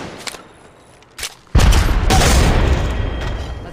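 Gunfire in Apex Legends Mobile ranked mode: a couple of faint shots, then a loud burst of rapid fire with booming impacts that keeps rolling to the end, close and dense.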